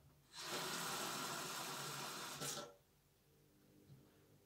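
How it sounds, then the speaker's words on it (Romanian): Water poured from a tap into a plastic half-liter bottle, a steady loud gushing rush lasting about two seconds that cuts off abruptly, leaving a quiet room. "Punem apă în sticlă puțin"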